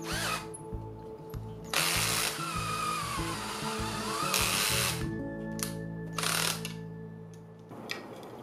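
Power tool driving screws to refit the muffler on a Stihl 038 Magnum chainsaw: several short loud buzzing bursts with ratcheting clicks between them, close up, with no talk.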